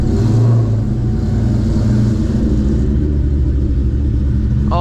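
A New Edge Ford Mustang Terminator Cobra with cams and a Borla Stinger exhaust idles loud and close with a deep lumpy rumble, then blips its throttle near the end, no talking.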